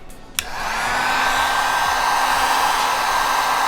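A heat gun warms vinyl wrap on a car's curved third brake light, starting with a click and then a steady, loud, close blowing whoosh with a constant motor whine.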